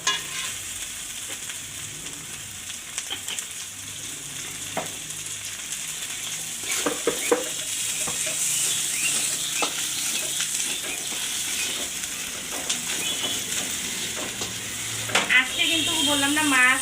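Oil frying in a pan for a Rangpur-style meal of chepa shutki and winter melon, a continuous close sizzle with occasional stirring clatter and a louder crackling burst near the end, no talk.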